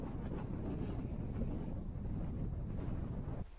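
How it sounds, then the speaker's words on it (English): Cold wind gusts steadily across a high alpine plateau at about 12,200 feet, a constant loud low roar buffeting the microphone with no talk, easing abruptly at the very end. "It's cold and windy."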